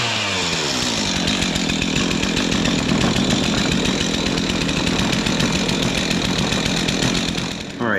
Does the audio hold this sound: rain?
no